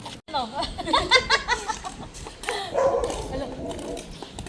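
A dog yips and barks a few times amid lively chatter and laughter from several people nearby.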